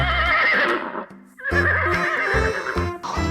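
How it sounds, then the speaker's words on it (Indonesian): A toy sound effect plays a loud, close horse neigh, a long, shaky whinny that comes in two bursts with a short gap between them, over hoof clip-clops and a light musical backing. "Kita dapat kuda warna coklat juga nih."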